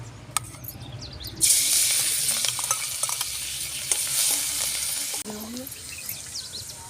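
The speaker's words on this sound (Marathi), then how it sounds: "हे तेल आपलं गरम झाले आपण याच्यात मसाला टाकून घेऊया" A loud burst of hissing sizzle as something wet hits hot oil, crackling steadily and then easing off after a stir.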